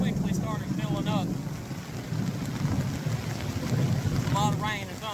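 Heavy rain pours down in a steady, loud hiss over low rolling thunder at a riverside camp during a storm, with wind buffeting close by and a few brief, high chirping sounds.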